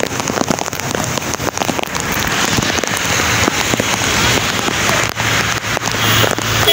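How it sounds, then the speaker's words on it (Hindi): Heavy downpour of torrential rain pounding a road in Karachi, a dense continuous hiss with crackling drops, loud and steady throughout with no voices. "बिल्कुल बेताशा बारिश होगी,"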